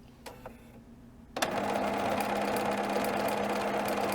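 A BERNINA B990 sewing machine quilts with a jumbo stitch, starting after a couple of soft clicks into a loud, steady whirring run of rapid needle strokes that holds evenly to the end, close by and with no voices.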